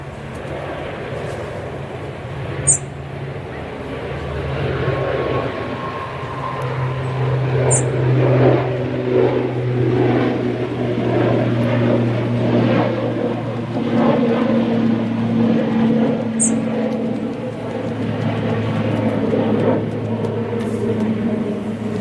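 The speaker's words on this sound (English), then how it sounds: "So, what was that just took off? It's the ATR, the Logan Air." Loganair ATR turboprop airliner taking off at Manchester Airport, a sustained droning engine hum with propeller tones that swell and shift pitch, fairly loud and continuous, with a few sharp clicks and no talking.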